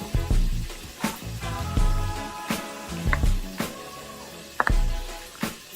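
A skillet of chicken sizzles steadily, broken by sharp pops and crackles that burst out every second or so, close to the microphone.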